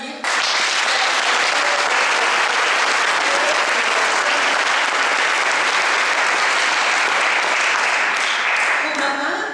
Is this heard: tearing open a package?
no